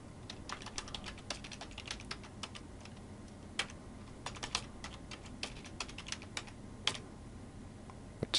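Keystrokes on a computer keyboard as a password is typed, a quick irregular run of light clicks with short pauses, close and alone over a quiet room hum.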